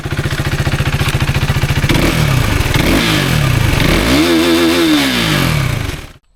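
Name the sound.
KTM RC 390 motorcycle engine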